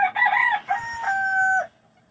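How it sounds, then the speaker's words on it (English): A rooster crows once, a clear drawn-out call with a sustained final note, moderately close and heard alone. "You can hear there's a rooster off going in the background."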